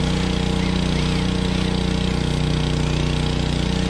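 A diesel engine on a well drilling rig runs at a steady idle, a loud continuous drone with an even low throb throughout and no speech.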